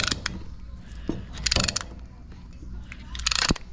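A caliper piston compressor tool is ratcheted to push both pistons back into a two-piston brake caliper on a Nissan Armada, giving close, irregular mechanical clicks and creaks in short bursts with pauses between.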